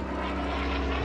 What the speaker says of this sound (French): la voiture de Rommel est prise pour cible par un avion de chasse britannique